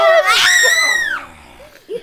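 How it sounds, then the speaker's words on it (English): A girl lets out a loud, high scream lasting about a second during playful wrestling, then it trails off into quieter background noise with a brief vocal sound at the end. "Oh, the killer scream of the girl."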